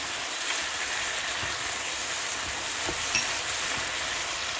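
Spices such as turmeric frying in olive oil in a pan for moussaka, a steady soft sizzle and crackle with faint stirring scrapes, close and continuous without voices.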